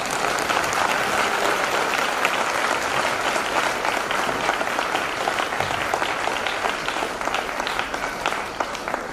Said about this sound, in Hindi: सबसे पहले जोरदार ताली प्रभु यीशु मसीह के लिए